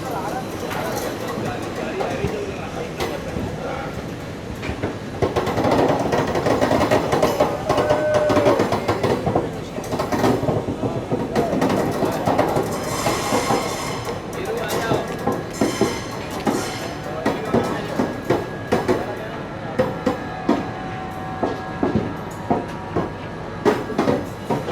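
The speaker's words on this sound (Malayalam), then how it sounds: "അങ്ങനെ ഗുണ്ടൂർ ജംഗ്ഷൻ്റെ പ്ലാറ്റ്ഫോം 2ലേക്ക് പ്രവേശിച്ചിരിക്കുകയാണ്." An ICF passenger train on the Hyderabad - Kollam Special rolls into platform 2 at Guntur Junction, with steady rumbling and rhythmic wheel clatter that grows sharper toward the end, heard from inside a coach with voices mixed in.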